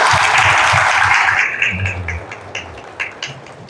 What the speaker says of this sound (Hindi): प्रभु को तालियां बजाइए